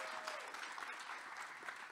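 At a final conference panel discussion, the audience gives a panelist a short burst of faint, steady clapping from across the hall, with a voice faintly in the background.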